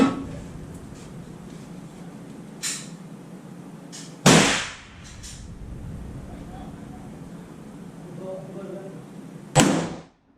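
A rifle is fired with 78-year-old H4831 powder loads at a range. Two sharp, loud reports ring out several seconds apart, and a fainter pop comes earlier, over a low outdoor background.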